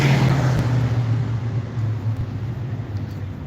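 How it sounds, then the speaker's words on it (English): A loud low engine rumble from a heavy truck rolls past nearby, droning steadily then easing off slightly, with no voices over it. "That truck loud."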